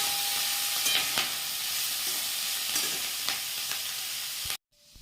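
Cauliflower, beans, onion and slit green chillies frying in a pan give a loud, steady hiss, with a few spatula scrapes, before the sizzle cuts off abruptly near the end.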